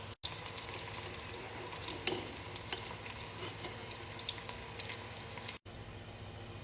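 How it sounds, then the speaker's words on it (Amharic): Raisins and carrots frying in a pan give a steady, dense sizzle, close and fairly loud, with faint stirring clicks and two brief dropouts. "እንደዚህ ለ2 ደቂቃ ዘቢባና ካሮቴን ጥብስ ካረኩኝ በኋላ አወጣዋለሁ"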